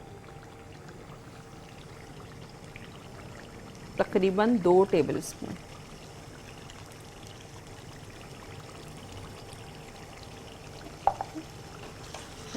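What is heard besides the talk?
pouring tamarind pulp into a cooking pot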